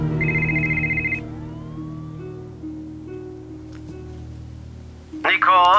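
A telephone rings in a video game, with a short electronic ring tone at the start and then a steady background tone as a character's voice is heard.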